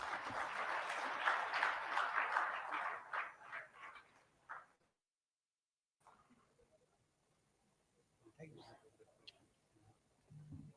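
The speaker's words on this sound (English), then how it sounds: "Huge round of applause, please." An audience claps for a guest being felicitated at a panel discussion, a warm burst of applause lasting a few seconds that dies away into near silence, followed by faint room sounds and brief murmurs.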